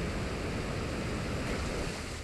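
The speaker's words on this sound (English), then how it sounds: "Kingdra goes for the Muddy Water." Kingdra's Muddy Water attack in a Pokémon battle, a steady, loud rush of surging water and surf-like noise that holds evenly for about two seconds with no talking.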